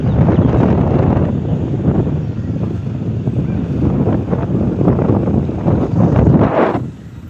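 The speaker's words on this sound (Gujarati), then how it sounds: "વાયરો ખૂબ આવે ને" Strong wind buffets the microphone in a loud, continuous roar with gusty surges, then eases slightly in the final moment.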